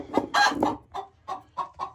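Chickens clucking close by, a series of short throaty clucks and squawks in an uneven rhythm with brief gaps between calls.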